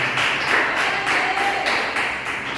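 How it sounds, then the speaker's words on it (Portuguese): Congregation clapping during a church service, a dense steady wash of many hands that holds at an even level throughout, with no speech over it. "Palmas para Jesus, meus irmãos"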